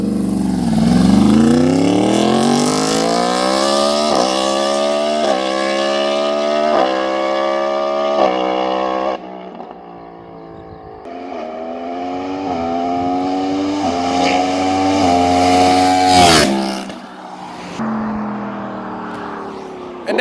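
A Yamaha R1M motorcycle fitted with an SC Projects exhaust revs hard and close, climbing in pitch in long screaming pulls, dropping off briefly, then rising again with a sharp final blip, loud and alone.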